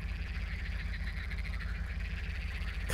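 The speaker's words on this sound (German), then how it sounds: "Jetzt haben wir schon die Frösche" Frogs croak in a steady pulsing chorus across a night scene in Spintires: MudRunner, the rhythm continuous and unbroken under a low ambient rumble.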